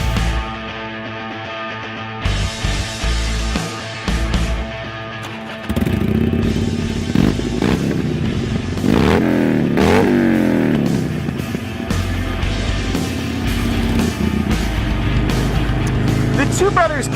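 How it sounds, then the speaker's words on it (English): Harley-Davidson Sportster motorcycle fitted with a full-system exhaust, idling outdoors then revving harder, a loud close throaty engine rumble with rising and falling throttle blips, with a person talking over it partway through. "Let's get outside and see what a full system exhaust is going to do for our Sportster."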